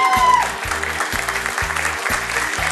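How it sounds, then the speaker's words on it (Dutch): Audience applause during a student competition show, steady clapping from the crowd over a regular, pulsing low beat of music. "Geef haar een applaus, Esther!"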